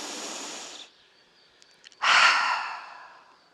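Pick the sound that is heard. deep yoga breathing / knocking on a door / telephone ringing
deep yoga breathing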